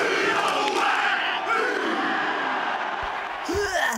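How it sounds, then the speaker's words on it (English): Large Icelandic football crowd performing the Viking clap, a powerful Haka-like chant: a loud, dense roar of many voices swelling together, near and sustained, with a deep unison shout rising at the end. "the so-called Viking clap, a powerful cheer that bears resemblance to the New Zealand Haka"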